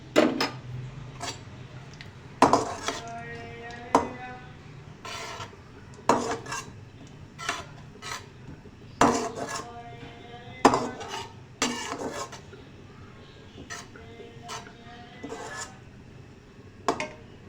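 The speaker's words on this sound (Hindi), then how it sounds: "खोपरा और छोटी इलायची को हम इसके अंदर अच्छी तरह फ्राई करेंगे" Coconut and cardamom fry in a pan for semolina halwa, heard as repeated metallic scrapes and clinks of a spoon against the pan at an irregular rhythm, close and clear, with only faint frying underneath.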